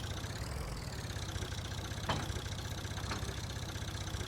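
Old underpowered tractor engine idling in Farming Simulator 22, a steady low chugging rumble with an even mechanical pulse, close and continuous, with a couple of faint brief clicks.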